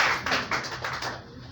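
Scattered clapping from a small crowd, a brisk patter of hands that thins out and fades after about a second.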